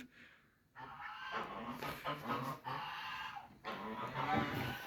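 Geese and ducks in a newly built poultry pen give honking, gabbling calls in fairly dense, overlapping bursts. The sound is quiet and fairly close, with a short hush before it starts.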